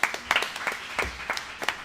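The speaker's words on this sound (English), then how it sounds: "Give Courtney a round of applause" A small audience giving Courtney a round of applause at a morning gathering, with a few scattered, uneven claps, soft and close, lasting under two seconds.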